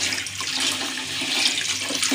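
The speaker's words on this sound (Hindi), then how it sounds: "तो अभी हम इसके अंदर डालने लगे हैं जी पानी।" Water pours steadily into a cooking pot while biryani is being made, a continuous broadband splashing rush that fills the moment close to the mic, with no talk over it.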